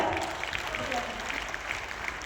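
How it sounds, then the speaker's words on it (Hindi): Applause from an audience at an event honouring women, heard as a steady, moderately faint wash of clapping that carries through the whole moment without talk over it. "तालियां हो जाएगा।"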